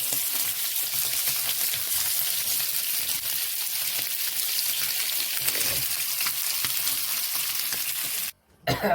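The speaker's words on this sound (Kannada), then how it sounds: "ತುಂಬ ಮೀನನ್ನ ಜಾಸ್ತಿ ಫ್ರೈ ಮಾಡೋಕ್ಕೆ ಹೋಗಬೇಡಿ." Snakehead fish frying in a pan, a continuous close hiss and crackle of hot oil that holds steady before cutting out abruptly near the end.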